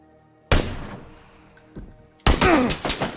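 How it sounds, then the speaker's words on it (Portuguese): Sharp gunshots in the PUBG video game, two loud separate bursts with a quieter thud between, fairly close and without talk. "ele tá atirando em mim"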